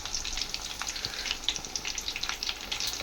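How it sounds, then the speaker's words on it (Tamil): Cauliflower 65 (gobi) pieces deep-frying in hot oil, a continuous bubbling sizzle with scattered crisp pops and crackles, close and fairly quiet. "நல்லா பொரிஞ்சு வருது."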